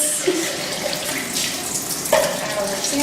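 Water runs steadily from a tap as soil or lab samples are triple rinsed, a continuous close hiss with a brief splashing shift partway through, alone without talk.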